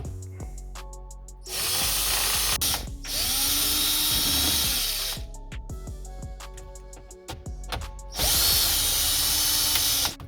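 A power drill spins out 7mm bolts from a Chevy Silverado / GMC Sierra truck dash panel, with three loud, sustained whirring bursts broken by clicks and handling noise between them.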